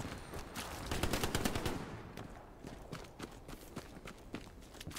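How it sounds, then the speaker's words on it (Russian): Gunfire in the World War II shooter Hell Let Loose, a rapid burst of automatic shots followed by sharper single cracks spaced irregularly, fairly close and loud with no talking. "Что за звук выстрела?"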